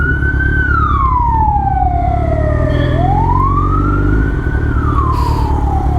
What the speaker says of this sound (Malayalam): ആംബുലൻസ് ആണ്